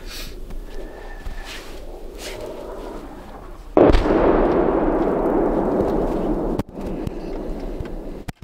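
Artillery fire at a front line: a heavy near blast erupts midway after quieter distant thumps, then a long rumbling roar that trails off, followed by one more sharp crack near the end.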